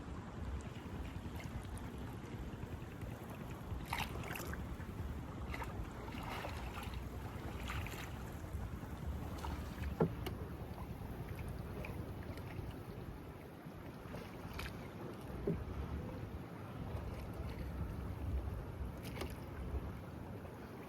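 A small boat drifts on water at night during fishing, with faint steady water lapping and wind noise, occasional soft knocks and splashes, distant and low throughout.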